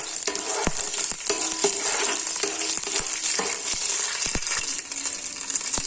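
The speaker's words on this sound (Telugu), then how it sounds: "ఆయిల్ వేడైన తర్వాత 1 స్పూన్ జీలకర్ర వేసుకోవాలి. అలాగే నేను పల్లీలు కూడా వేసేసుకుంటున్నాను. ఒకసారి కలుపుకుందాము." Cumin seeds and peanuts sizzle in hot oil in a pan while a spoon stirs them, giving a steady frying hiss broken by sharp scraping clicks.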